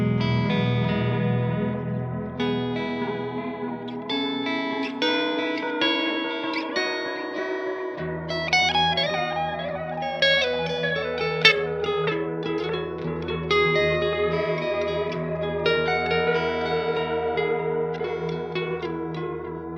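Guitar played through a Strymon Volante delay pedal with its knobs turned to maximum, producing thick, swirling repeats and wide, echoing ambience around sustained chords and notes throughout, with no talking.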